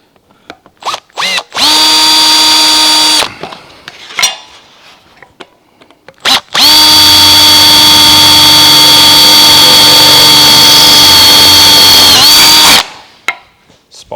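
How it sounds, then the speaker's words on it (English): A loud spot weld drill runs in two bursts through car door sheet metal, a short one then a longer sustained whine, with metallic clicks and taps in between. "Spot weld drill. It's one I've been using for drilling out a heap of spot welds."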